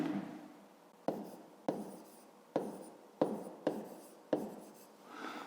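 A pen writes numbers into a table on paper during a fifth-grade maths exercise, a series of sharp taps with soft scratching strokes at an uneven pace, quiet and close, with no talking.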